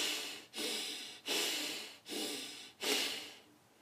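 A voice imitates loud, noisy yoga-style breathing: four long, rasping breaths alternating between inhalation and exhalation in a steady rhythm, close and alone with no other sounds.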